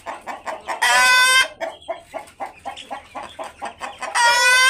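Hill chickens, a local non-breed fowl around 900 grams, cluck in a close, steady rhythm of short calls, broken by two loud, sustained crows. No one speaks.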